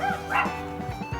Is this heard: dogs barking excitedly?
yes